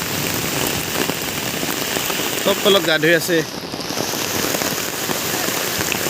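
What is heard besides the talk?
rain falling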